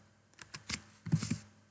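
Someone typing on a computer keyboard while working in Excel: a quick burst of about eight close, crisp key clicks in two short clusters, with no voices.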